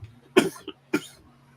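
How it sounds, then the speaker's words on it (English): Two harsh coughs close to the microphone, a short pause between them, with a faint throaty catch in between and quiet room hum around them. "Now he has to cough his head off."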